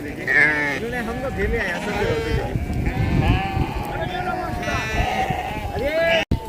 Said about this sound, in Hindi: हैं वे पहाड़ी भेड़ जो पूरे बुग्यालों में रहते हैं।